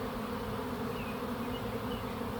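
A honeybee swarm hums steadily around a backyard swarm trap, a dense continuous buzz close by with no voices, holding even in level throughout.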